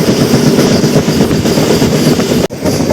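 A MEMU passenger train on the Rajahmundry–Bhimavaram line rumbles loudly and continuously with dense rolling wheel noise, heard close from on board, with a brief sharp drop in the roar near the end.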